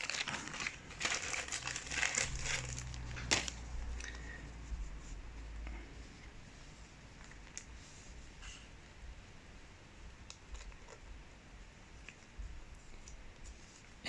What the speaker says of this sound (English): We'll get a new card sleeve.